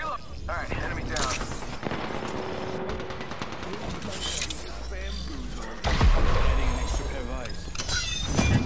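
Gunfire in Apex Legends, dense rapid bursts and shattering impacts crackling loudly and steadily throughout, with voices talking over the combat.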